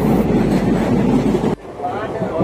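An overnight long-distance passenger train bound for Kolkata rumbles along the rails with a dense, steady low roar, heard from inside a carriage. Partway through, the noise drops sharply and the rumble continues more softly. Faint voices may sit underneath.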